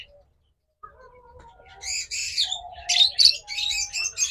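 A pair of split lovebirds chirps and squawks in bursts of bright, high tweets, growing busier and louder toward the end, with occasional lower coos in the background and no speech.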